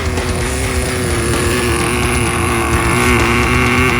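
An 18-year-old Traxxas T-Maxx nitro RC truck screams at full throttle, its small two-stroke engine winding out in a loud, sustained high-pitched whine that holds steady and slightly rises, close by.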